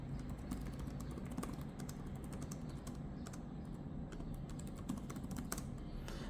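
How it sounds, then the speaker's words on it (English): Steady, rapid keyboard typing on a Lenovo Legion 83DG gaming laptop, soft clicky keystrokes continuing throughout at a close, even level. "what about the typing experience? Let me show you."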